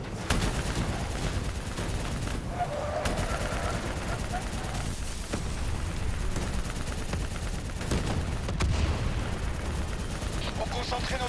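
Gunfire in the Call of Duty Black Ops III campaign, dense and continuous rattling bursts layered with booming impacts, with talk over the combat.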